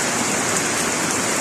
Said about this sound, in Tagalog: Buti na lang, umulan